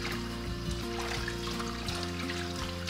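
Tap water runs steadily into a stoppered kitchen sink while quinces are prepared for jam, giving a continuous close pouring and filling sound with faint clinks and no talk.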